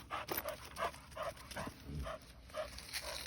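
A bulldog snorts and grunts in a rapid, rhythmic series of short huffs, close by and fairly quiet, with a brief whimper in the middle.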